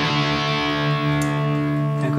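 A thick, saturated high-gain electric guitar tone from a Fractal Audio Axe-Fx III amp model rings out in a sustained chord, buzzing and gritty, with a fresh strum near the end.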